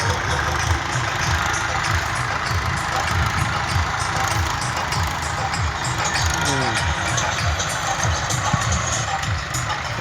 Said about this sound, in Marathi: एकदम पद्धतशीर ट्रॅक्टर चालू आहेत